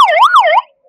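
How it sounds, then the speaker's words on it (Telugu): A Hyderabad traffic police patrol bike's siren is switched on for one short wailing sweep, rising and falling twice before cutting off abruptly, loud and close. "అది స్విచ్ ఆన్ చేసి ఒకసారి సైరన్ వేస్తారు చూడండి సార్"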